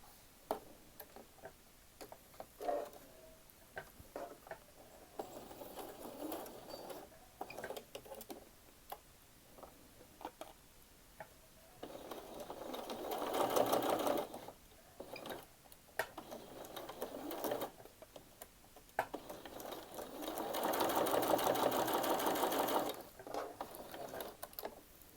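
A home sewing machine stitching quilt block pieces, its needle ticking in fast rhythmic bursts that start and stop, some runs longer and louder, with light handling noises between them.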